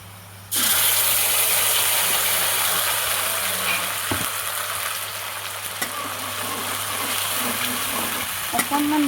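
Masala spices and onions hit hot oil for chicken curry, a sudden loud sizzle that keeps up as a steady crackling fry with occasional stirring scrapes and a low hum beneath.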